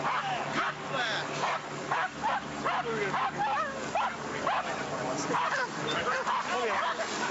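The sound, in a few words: police dog barking and whimpering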